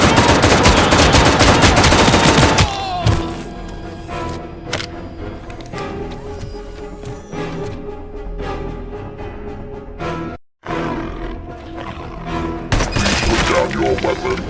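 Rapid bursts of heavy gunfire from the ED-209 robot in the RoboCop: Rogue City video game, a dense loud opening barrage followed by scattered shots and clatter under speech, with a short silent gap near the end.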